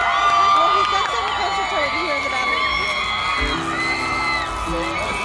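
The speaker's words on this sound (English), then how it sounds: "I love the screaming" A concert audience at the Praise on the Hill 2011 festival screams, whoops and cheers loudly and continuously, a dense wall of crowd noise with high yells rising above it throughout.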